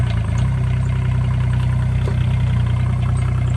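A 2001 Kubota K008 mini excavator's diesel engine idling steadily with a low, even rumble, close and loud throughout.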